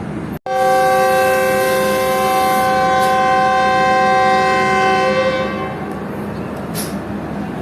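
The Fareed Express, a private passenger train on the Lahore to Karachi route via Kasur, sounds its departure horn at a station: a loud, close, unbroken horn blast lasting about five seconds, then a noisy rumble as the sound fades.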